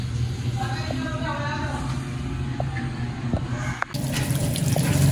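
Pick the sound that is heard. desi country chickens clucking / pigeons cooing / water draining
water draining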